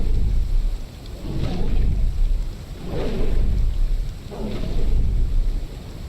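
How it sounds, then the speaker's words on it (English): Stormy weather with a steady broadband roar of rain and wind, swelling into three long rumbling surges like rolling thunder spaced a couple of seconds apart, with no voices. "a storm has moved in"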